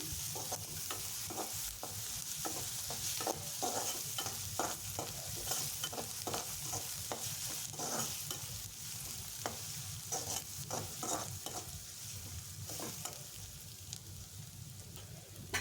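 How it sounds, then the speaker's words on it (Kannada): Onions for egg fried rice fry steadily in a pan, a continuous close sizzle broken by frequent clicking, scraping stirs throughout, with no one talking. "ಹೀಗೆ ಚೆನ್ನಾಗಿ ಫ್ರೈ ಆಗ್ತಾ ಇರಲಿ. ಮಧ್ಯ ಮಧ್ಯ ಕೈ ತಿರುಗಿಸ್ಕೊತಾ ಇರಿ."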